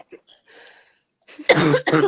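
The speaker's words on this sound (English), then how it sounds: "Y'all, I'm choking." A person choking during a podcast conversation, with a few faint throat sounds followed by two loud, harsh coughs in quick succession close to the microphone.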